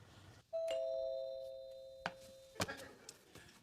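A two-tone electronic doorbell chime rings out clearly, followed by a couple of sharp knocking clicks and light rustling nearby.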